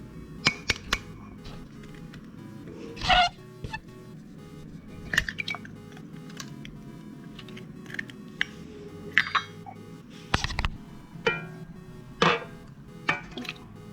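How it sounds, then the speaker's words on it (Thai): Eggs cracked for chocolate chip cookie dough: a few sharp cracks and taps with small wet squishes and drips, spaced out over quiet kitchen background. "ตอกไข่กัน"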